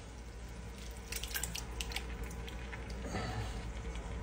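Tap water pours steadily into a bowl and emptied San Marzano tomato cans in a home kitchen, a continuous close splashing hiss with small clinks and drips, no talking.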